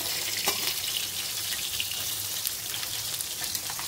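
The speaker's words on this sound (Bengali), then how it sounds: "দেখুন মাছগুলো একটা একটা ভাজা হয়ে যাচ্ছে" Rohu fish pieces fry in oil, producing a soft, continuous sizzle dotted with small pops and crackles, heard close with no voices.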